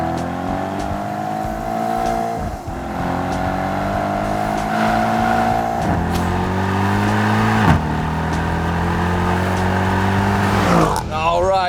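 A 2021 Mercedes-AMG E63 S engine on a race track, loud and close, climbing steadily in pitch through several gear changes with brief drops between upshifts, running continuously before a short break near the end.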